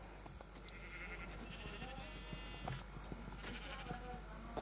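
A sheep in Minecraft bleats a few times over a steady, noisy background hum, fairly faint, with no one talking.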